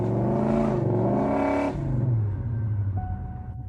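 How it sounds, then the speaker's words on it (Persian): A car engine cranks over and is revved, its pitch rising and falling across several seconds of loud, steady engine drone. "استارت بزن. گاز بده."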